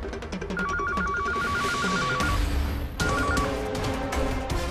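A telephone rings with a repeated electronic trilling tone in two bursts, loud against background music.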